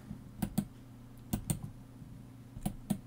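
Keys on a computer keyboard are tapped in three short pairs of crisp clicks, spaced about a second apart, close to the microphone in an otherwise quiet room.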